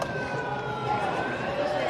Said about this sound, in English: I can hear sirens here.